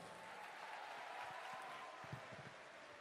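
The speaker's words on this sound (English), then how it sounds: "Give them a big round of applause" An audience at a Save Soil movement event in Bengaluru applauds for young performers, a steady, fairly faint wash of clapping with a hint of voices underneath.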